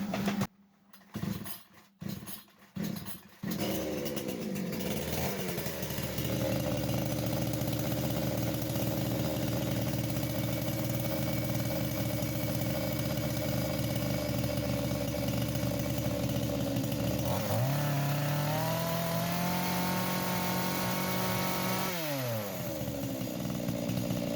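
A Procraft GS 52T petrol chainsaw is pulled over a few times, then fires and runs steadily at a loud, close idle, with the engine pitch rising and falling briefly twice during carburetor adjustment.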